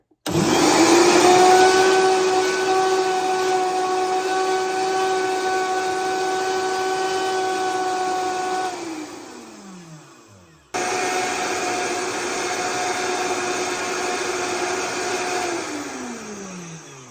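A blender grinds organic cane sugar into powdered icing sugar with a loud, steady whirring drone that runs about nine seconds, winds down, then starts again and runs to the end.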